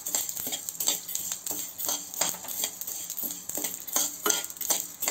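Fennel and shahjeera dry roasting in a pan, heard as rapid rhythmic scraping and clinking of a spoon against metal, close up, with light rattling of seeds.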